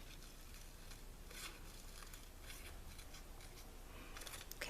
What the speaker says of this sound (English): Now I have this delicate doily that I cut in half, and I'm going to cut the center out